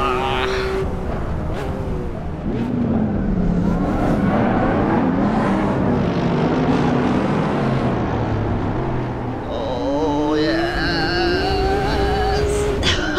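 Engine of a Porsche 997 911 GT3 RS 4.0 in a racing video game, a loud sustained roar rising and falling in pitch through gear changes, with other cars close by and someone talking over it.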